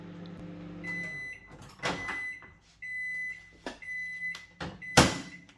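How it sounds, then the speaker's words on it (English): A microwave oven runs while cooking rice: a steady low electrical hum, with high steady tones and a few sharp knocks or clunks, heard close by with no voices. "Microwave's on."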